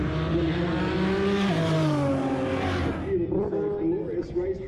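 Roll racing cars at Tailem Bend motorsport park near Adelaide roar along the track with a steady, loud engine drone that shifts in pitch as they accelerate, while a commentator talks over it throughout.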